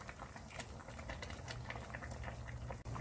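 A pot of soup made from dried radish greens and cabbage leaves simmers with quiet, continuous bubbling and soft popping, faint and close throughout.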